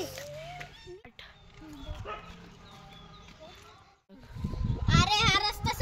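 Outdoors in a village, a dog yips and whimpers in high, wavering cries among people talking, with a louder cluster of excited yelps near the end.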